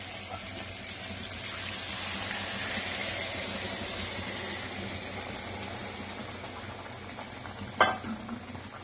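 Spiced water is poured into a pan of frying hilsa fish in mustard gravy, a broad, steady sizzle and bubbling wash that ends with a sharp clatter near the close.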